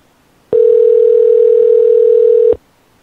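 A single steady telephone tone on a call to a newspaper office, about two seconds long, loud and close, starting and stopping abruptly with silence around it.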